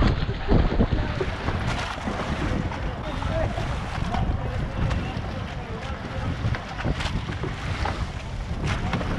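Boats idling in a queue on open sea for whale shark watching off Oslob in the Philippines, a steady broadband rumble of water and wind buffeting the microphone, with voices talking over it now and then.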